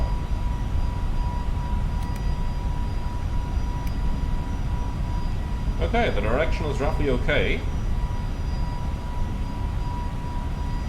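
Airbus A321neo jet engines from the FSLabs flight simulator, climbing out of Newark, make a steady broadband roar throughout, with a person talking briefly over it partway through.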